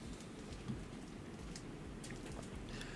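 Rain with a little hail during a storm in the game 7 Days to Die, a steady soft hiss of rainfall with faint scattered ticks, continuous and low in level with no talking.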